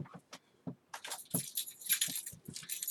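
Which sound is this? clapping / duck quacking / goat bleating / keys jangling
keys jangling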